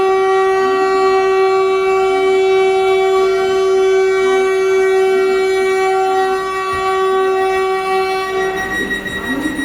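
A Vande Bharat train at Dehradun station sounds a long, steady horn blast that holds loud and near for several seconds with little else around it.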